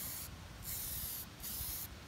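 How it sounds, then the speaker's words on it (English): A spray paint can, held upside down while painting a T-top, hisses in loud sustained bursts with short pauses between them and no talking. "Notice you can spray upside down,"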